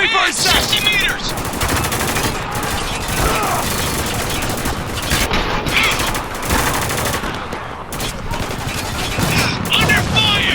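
Dense, continuous gunfire during an ambush in Spec Ops: The Line, with rapid automatic bursts and sharp shots layered over each other, loud and close throughout, with game voices shouting under the shooting.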